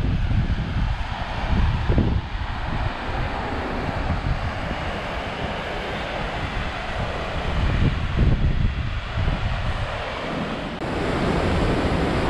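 Heavy water pouring at the foot of a waterfall, a loud, steady roaring rush close by with gusts of wind buffeting the microphone and no speech.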